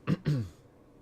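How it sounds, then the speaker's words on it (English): Two quick, gruff throat-clearing bursts from a nearby person, close and fairly loud, followed by quiet. "Had to clear my throat"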